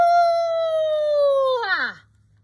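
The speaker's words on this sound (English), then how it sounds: "Coyote sat on his haunches and howled" A single long sustained howl from a storytold coyote, strong and harmonic, holding steady then bending downward and breaking off, with a low hum beneath.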